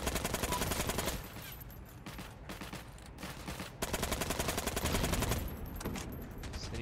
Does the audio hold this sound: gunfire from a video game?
yes